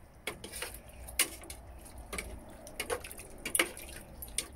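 A spoon stirs a pot, giving a series of close, light metallic clinks and scrapes in an uneven rhythm over a quiet background, with a faint wet sound and no talking.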